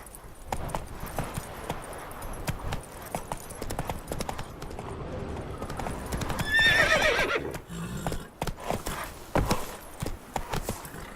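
Horse hooves clip-clopping at a quick gait in The Witcher 3, with neighs and whinnies rising midway, loud and close, a few bursts of talk scattered over the hoofbeats.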